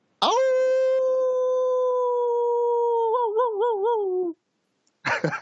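A person imitates a husky's howl, a long sustained tone that wavers and warbles near the end, followed by a short burst of noise.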